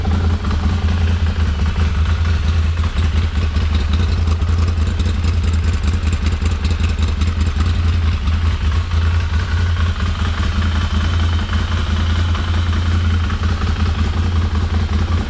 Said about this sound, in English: I just got to share that sweet Ducati V-twin sound.